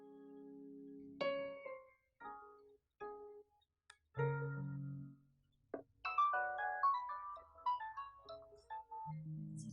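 A telephone rings in a Pakistani drama scene, a melodic electronic ringtone of several short tonal phrases building into a busier, louder run of notes, heard close and without any talk.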